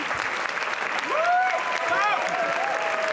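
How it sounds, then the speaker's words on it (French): A crowd in the screening hall at the Cannes 2022 festival applauds the Armageddon Time film team, sustained dense clapping with whistles rising and falling through it, and a voice talking over the noise. "Ultra applaudi."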